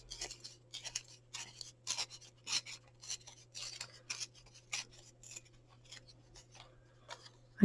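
Paper is torn off in pieces for a folded snowman craft, a series of close, dry ripping and rasping strokes in uneven bursts over a faint steady hum, no talking.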